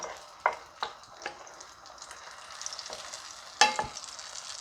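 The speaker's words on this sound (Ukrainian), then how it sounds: "виливаємо наш баклажанчик на сковорідку" Soft sizzling of eggplant batter frying in a pan, with a few sharp crackles and pops scattered throughout, close and fairly quiet.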